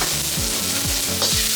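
Onion sizzles as it fries in about two tablespoons of vegetable oil, a loud, continuous crackle with rhythmic scraping strokes of stirring over it.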